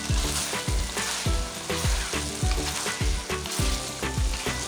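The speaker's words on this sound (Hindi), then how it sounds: "और हम डाल देंगे इसमें अदरक और हरी मिर्चें। मज़ीद 2 मिनट तक हम इसको भूनेंगे" Chicken karahi with ginger and green chillies fries hard in a restaurant-style coal karahi, with a loud continuous sizzle and rhythmic clanks and scrapes from stirring about once every half second. No voices.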